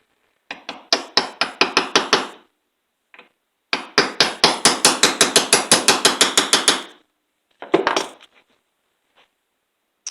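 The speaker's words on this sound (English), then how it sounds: "The seal fits inside of this bearing. It's a metal seal. So we lay it like that. The same small jeweler's hammer." Rapid, sharp metallic taps from a small jeweler's hammer seating a metal crankshaft seal into a bearing on a Stihl MS460 chainsaw come in quick bursts, with short pauses between runs, close and crisp.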